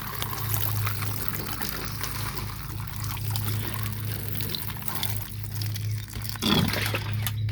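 Water poured onto peat in seed-starting cells for pepper and tomato seeds, a soft, steady pour and trickle close by, quiet and continuous, with no talking.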